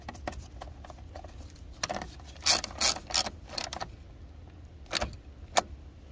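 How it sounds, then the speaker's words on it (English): A 10mm bolt on a Ford F-150 fuse box is turned by a hand tool, giving short bursts of close metallic ratcheting clicks and jangles separated by quiet pauses, faint overall with no talking. "Remove the 10mm bolt and place these two wires back into place. Then tighten the bolt back down hand tight."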